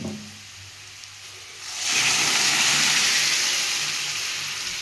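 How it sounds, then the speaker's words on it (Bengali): Boiled mung dal, for a radish mung dal, is poured into a hot pan of cooked spices. After a quiet start, a loud, broad hissing sizzle bursts up and holds, slowly easing toward the end. "আমি এবার সেদ্ধ করা ডালটা এতে ঢেলে দেবো।"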